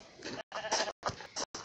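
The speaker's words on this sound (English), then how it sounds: "Who cares? They're sheep." Sheep in a video game bleat in a series of about five short, close, nasal bursts separated by brief silences.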